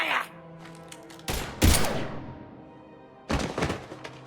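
Gunfire erupts in Mass Effect 3, with a few sharp, heavy blasts and bursts separated by short gaps, loud and close, alongside game sound and a voice just before.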